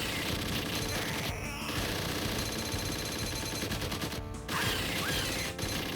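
Rapid machine-gun fire from the 1993 arcade game Alien 3: The Gun rattles continuously and loudly for the whole stretch, dense bursts layered with game effects and a brief mechanical break.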